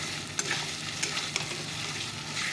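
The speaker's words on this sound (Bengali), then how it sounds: "মশলাটা কষলে কী হবে না মশলাটা সুন্দরভাবে কষে যায়" Spice paste sautés over a low gas flame, a dense, even sizzle with a few sharp scrapes as it is stirred, close up and unbroken.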